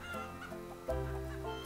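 Chickens clucking in the farming video game Farm Manager 2018, several short clucks over a steady low hum of game ambience and music, fairly close and moderate in level.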